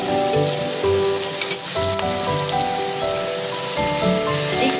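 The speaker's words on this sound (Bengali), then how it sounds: "এবার এই তেলের মধ্যে কালো জিরে ফোড়ন দিয়ে এবার পেঁয়াজটা দিয়ে দিচ্ছি।" Onions fry in hot oil with black cumin seeds, giving a loud, continuous sizzling hiss that stays dense and close throughout, with no talking.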